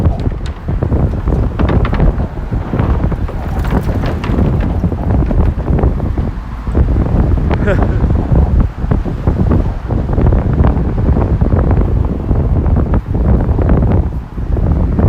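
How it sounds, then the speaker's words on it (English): Strong wind roars continuously against the microphone on a New York City bridge, loud and buffeting with gusty surges throughout, with no talking. "It's windy up here."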